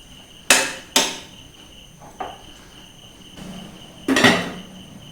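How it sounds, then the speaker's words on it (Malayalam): Shallots being crushed for a Kerala-style seasoning, heard as a few sharp pounding thumps, two close together early and another heavier strike near the end, with a faint knock between and a steady insect-like hiss underneath. "നല്ലപോലെ ഒന്ന് ചതച്ചെടുത്താൽ മതി നമ്മളെ ഉള്ളി ഒന്ന് ചതച്ചെടുത്ത"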